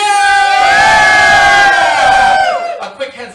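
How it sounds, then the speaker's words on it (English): A game show live-stream audience lets out a loud, sustained cheer and whoop close by, holding for over two seconds before breaking off into scattered voices. "Let's give a cheer!"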